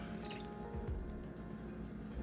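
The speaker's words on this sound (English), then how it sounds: "We're going to add our milk" Milk pours into a mixing bowl of cake batter ingredients with eggs for a raspberry lemon cake, giving a short liquid splash and trickle over a steady low kitchen hum.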